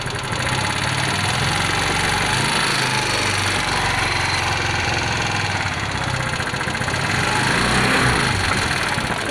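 A Yamaha Mio Z motorcycle engine runs loud and close, rough and steady with a knocking rattle, the revs rising and falling a few times.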